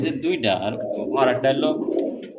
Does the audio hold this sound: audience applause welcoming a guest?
no